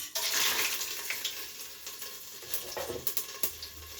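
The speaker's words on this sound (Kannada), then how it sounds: "ಎಣ್ಣೆ ಕಾದಿದೆ ಚಕ್ಕೆ ಲವಂಗ ಏಲಕ್ಕಿ ಪಲಾವ್ ಎಲೆ ಇಷ್ಟನ್ನು ಹಾಕೊತಾ ಇದ್ದೀನಿ" Cinnamon, cloves, cardamom and bay leaf go into hot oil for biryani, giving a loud hiss and crackle at first that settles into a steadier sizzle with a few sharp pops and stirring scrapes near the end.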